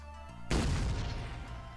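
A Mega-Digger shot explodes in the artillery game Shellshock Live, a sudden heavy boom that rolls on as a low rumbling blast, following a brief quieter tone.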